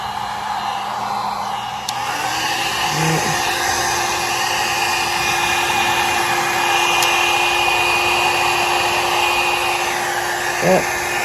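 A heat tool blows hot air over an acrylic paint background, a loud, steady whirring blast that starts softer and then holds a constant high hum with a faint whine throughout.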